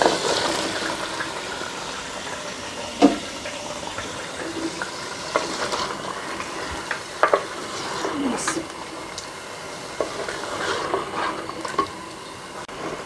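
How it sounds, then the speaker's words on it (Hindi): Mutton pieces hit frying onions in a pan, giving a steady close sizzle with scattered pops and stirring scrapes throughout. "अब इस स्टेज पे मैं इसमें गोश्त शामिल कर"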